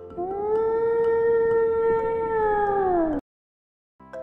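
A whale call: one long, loud, sustained tonal moan, slightly rising at the start and bending downward as it fades after about three seconds, followed by silence and a brief faint return.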